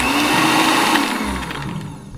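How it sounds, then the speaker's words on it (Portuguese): An old blender grinding a phone grinds loudly with a harsh, rattling roar, breaking down as it slowly winds down over a couple of seconds. "Isso aqui é um liquidificador velho."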